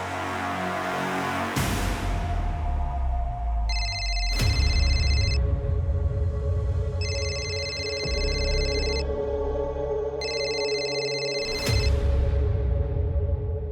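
A telephone rings in repeated electronic bursts, three distinct rings spaced a few seconds apart over a dramatic musical background.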